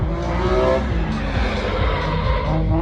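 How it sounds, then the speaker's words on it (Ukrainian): A drift car engine roars at high revs at a street car festival while tires squeal and skid continuously, loud and close, with no talking. "Ох газують."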